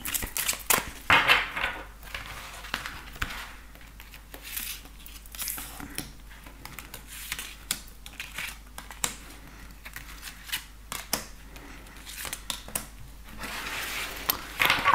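Tarot cards are shuffled and drawn in quick, irregular bursts of papery flicking and slapping, close and fairly loud throughout, with no voice.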